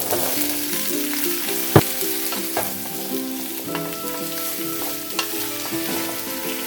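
Chayote fries with green chili in a pan, a continuous close sizzle broken by a loud knock and several lighter scrapes and taps as it is stirred.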